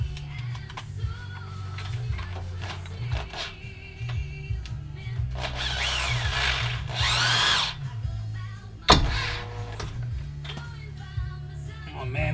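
A power drill with a deep well socket whirs in repeated bursts during a 2005 GM 4T65-E transmission replacement, stopping and starting with a rising whine in the middle and some clanking metal contact as it hits the floor, close and fairly loud.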